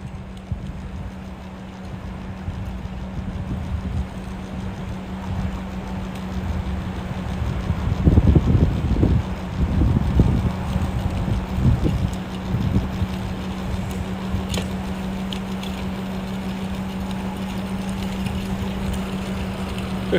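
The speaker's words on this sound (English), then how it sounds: "The Yarbo van just drove by." Outdoors in freezing, windy weather, a van drives past, its engine rumble swelling and fading midway under constant wind buffeting and a steady low hum.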